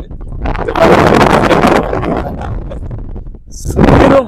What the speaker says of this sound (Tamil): இந்த மண் திடல்ல காத்து செம்ம காத்து அடிக்குது